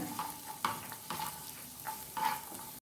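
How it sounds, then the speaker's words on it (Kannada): Chopped garlic frying in hot oil for chicken 65, a soft, steady sizzle broken by several brief scraping stirs, close and moderately quiet, with no talking. "5 ರಿಂದ 6 ಎಸಳು ಬೆಳ್ಳುಳ್ಳಿಯನ್ನು ಚಿಕ್ಕದಾಗಿ ಕಟ್ ಮಾಡಿಟ್ಕೊಳ್ಳಿ. ಅದನ್ನು ಫ್ರೈ ಮಾಡ್ಕೊಳ್ಳಿ"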